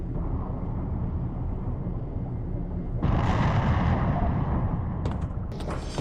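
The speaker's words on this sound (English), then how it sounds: "The reactor was destroyed" A reactor blowing up aboard a flooded underwater station in the game Barotrauma, set off by planted explosives: a continuous heavy roar that surges louder and brighter midway, with sharp crackling bursts near the end and no talking.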